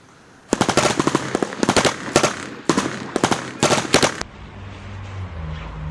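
An M249 machine gun fires several loud, rapid bursts of automatic fire, each a tight string of sharp cracks separated by short pauses, close and dominant, ending in a low rumbling tail.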